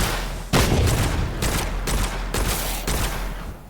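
Automatic weapon reload and gunfire in the FPS roguelike Witchfire, a series of loud, meaty bursts and clacks in close succession with no talk.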